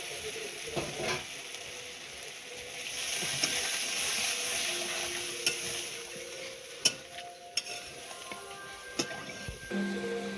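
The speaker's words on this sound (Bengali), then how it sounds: "এবারে জল ঢেলে দেবো।" Water is poured into a frying vegetarian curry of raw papaya and paneer, giving a soft continuous sizzle with a few sharp clinks and stirring knocks from a utensil, close and fairly quiet.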